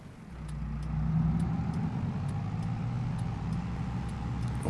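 A CASE farm tractor in Farming Simulator 22 pulls onto the road, its mid-pitched engine droning steadily and close, with faint rhythmic ticking of a hazard-light indicator above it.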